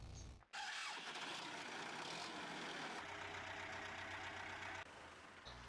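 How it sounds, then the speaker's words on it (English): An old MTZ tractor engine in Farming Simulator 15 starts with a brief cough, then runs loud and steady, shifting to a deeper idle rumble near the end. "kind of a loud tractor as well."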